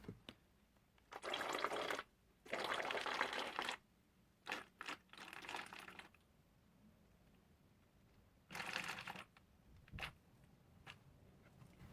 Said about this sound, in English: Now make sure you watch very carefully what happens when I pour in this water.